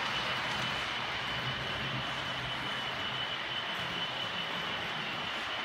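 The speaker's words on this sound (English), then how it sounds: "We've got trains running again after some alterations" An OO gauge model railway on a layout hums along as a steady, even rolling whir that holds at a constant level throughout, with no talk.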